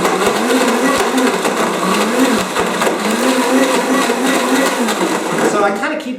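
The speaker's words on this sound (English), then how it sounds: "I'm going to blend it down just a little bit." A blender whirs loudly and steadily with repeated clunks as whole dates knock around inside, ending as the motor winds down.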